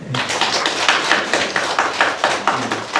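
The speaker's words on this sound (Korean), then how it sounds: "박수하겠습니다." A church congregation claps for three people being given gifts, a short round of brisk, evenly paced handclaps close by, with a brief voice at the very start.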